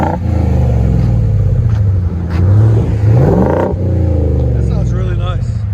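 A Ford F-350 pickup with a 7.3L gasoline V8 idles with a deep, throaty exhaust rumble and revs up a couple of times, while someone speaks briefly near the end.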